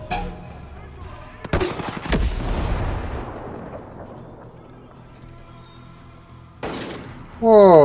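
Sniper rifle fire in Ghost Recon Breakpoint: a sharp loud crack with a long rolling echo that fades, then another crack near the end as a voice begins speaking.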